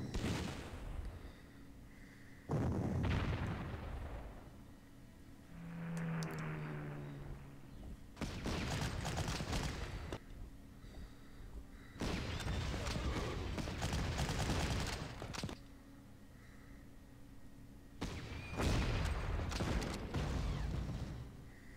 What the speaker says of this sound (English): Alright, so now their artillery's hitting us.